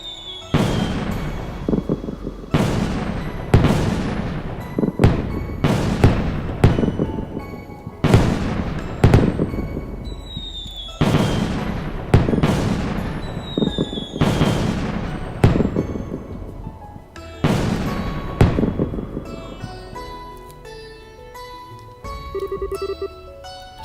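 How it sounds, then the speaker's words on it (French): Fireworks in a video game (Trails in the Sky the 3rd) burst one after another in loud booms with crackling tails, roughly a dozen blasts spread across the clip, some with whistling launches. "Waouh, des feux d'artifice!"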